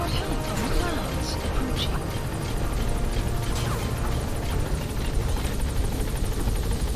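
A helicopter in Metal Gear Solid V: The Phantom Pain throbs steadily and loudly throughout, its rotor thrum constant and close with no pause.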